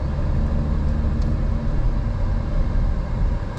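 A 2024 Audi RS3 in comfort mode drives over a bump on the road. A steady, loud low rumble of engine and road noise fills the cabin, with no clear jolt standing out.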